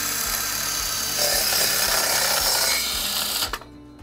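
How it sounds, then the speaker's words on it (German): A handheld circular saw cuts loudly and steadily for about three and a half seconds, then spins down and stops abruptly. "wir haben also da jetzt eine Handkreissäge"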